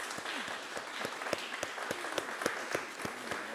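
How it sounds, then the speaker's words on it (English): Audience applause for the speakers at the close of a workshop session, a steady wash of clapping with distinct sharp claps standing out near the front, lasting throughout. "I would just ask you to join me in a round of thanks and applause to our speakers."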